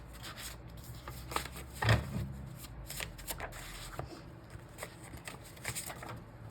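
Tarot cards are shuffled by hand, close up, with a series of soft riffling swishes, flicks and taps in an irregular rhythm, including one louder thump, and no one speaking.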